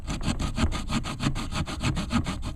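A Ganzo G302-B multitool saw blade cutting wood with steady, even back-and-forth strokes, close and moderately quiet, about four strokes per second.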